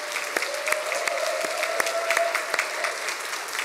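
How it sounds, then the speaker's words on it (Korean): A church congregation claps together in support of a deaconess who played the organ, a lively room full of hands with a few sharper individual claps standing out, and a faint sustained tone beneath. "집사님 화이팅 하는 의미로 같이 한번 박수할까요?"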